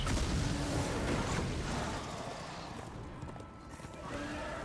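Horse hooves clip-clop steadily in the video game Darksiders 2, close and fairly loud, with a rumbling background underneath and no talking.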